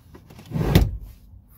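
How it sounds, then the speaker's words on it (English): Seat of a Mazda Miata ND slides forward on its rails in a single short, muffled rumbling shift with a soft clunk, close and moderately quiet. "We are going to move the seat up."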